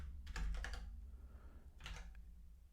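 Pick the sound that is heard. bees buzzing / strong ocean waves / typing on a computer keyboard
typing on a computer keyboard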